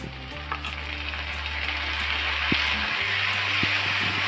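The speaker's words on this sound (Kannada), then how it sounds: "ಈ ಟೊಮೆಟೊ ಹಾಕಿ ಚೆನ್ನಾಗಿ ಬಾಡಿಸ್ಕೊಳ್ಳೋಣ." Tomatoes frying in a pan of cooked onions for a bhindi masala gravy, a dense continuous sizzle held close and even, with a steady low hum from the stove and occasional small clicks.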